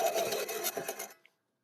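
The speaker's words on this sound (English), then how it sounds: "So I'm going to go ahead and cut this one off here." A threaded T-bolt is cut off in a short, buzzing, rasping burst lasting about a second, close and moderately loud, ending abruptly in silence.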